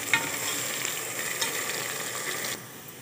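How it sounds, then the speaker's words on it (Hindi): Onion, ginger and green garlic fry in a pan for chana dal, a steady close sizzling hiss with light stirring that drops to a softer sizzle near the end. "और ये तीनों चीज़ें ब्राउन हो चुकी हैं।"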